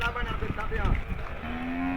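A bull at a weekly cattle market lets out a single low, drawn-out moo close by, over a murky outdoor background, with no voices.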